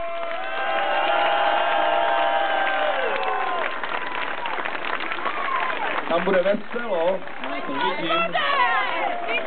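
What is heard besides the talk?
applause and cheering for aerobics team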